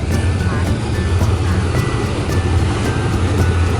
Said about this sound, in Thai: ฝั่งนู้นเป็นเสียงรถ